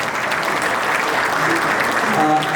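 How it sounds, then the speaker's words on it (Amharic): Studio audience at a television station's anniversary celebration claps steadily and fairly loudly throughout, a dense continuous patter of many hands with no talking over it. "እስቲ ለቦርዶቹ በደንብ እንዲሰሩ አጨብጭቡላቸው።"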